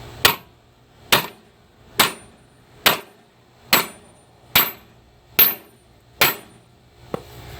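Hammer striking a socket to break loose an engine bolt on a 2014 Kia Soul 2.0L GDI engine, nine sharp evenly spaced metallic taps at a quick steady rhythm, close and loud with no talk.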